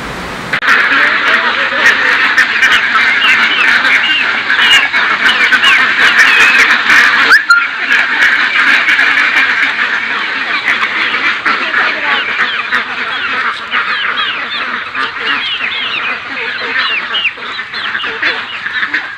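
Meat ducks on a duck farm quack in a dense, continuous flock chorus that stays loud and close throughout, with a speaking voice faintly mixed in.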